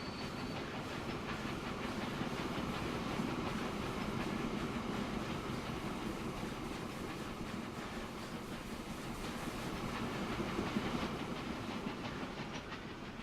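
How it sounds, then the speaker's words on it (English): A train rolling past in the railway-building game Transport Fever, a continuous rumbling rail noise with faint rhythmic clatter holding steady at moderate level for the whole stretch. "There goes a train."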